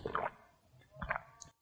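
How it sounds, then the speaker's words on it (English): A person gulps a drink of water in two soft wet swallows about a second apart, close and quiet, with a small click at the end. "I'm sure they heard every bit of that gulp you just took out of that water."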